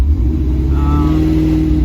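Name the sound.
1979 El Camino 350 small-block engine running cold, revving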